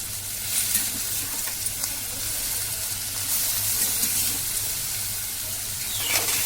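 Soaked, crushed salted dried meat is sautéed in a pan, producing a steady close sizzle with faint stirring scrapes and a constant low hum underneath.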